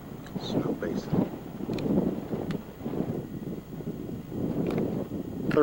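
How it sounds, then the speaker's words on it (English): Wind gusts through a small mountain pass at Snow Basin near Ogden in the Rockies, buffeting the microphone in uneven low rumbling surges. "The reason it's so windy up here is because I'm right at a little pass and the wind is just blowing through it"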